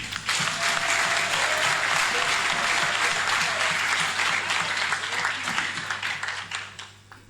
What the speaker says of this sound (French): je vous prie une fois de plus d'applaudir